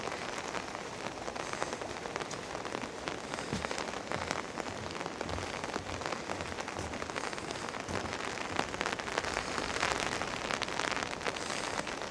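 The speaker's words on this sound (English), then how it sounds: "It's really pelting it down now." Heavy rain pouring down on a January day in Glasgow, a dense, steady patter and hiss of drops striking surfaces, close and continuous throughout with no voices.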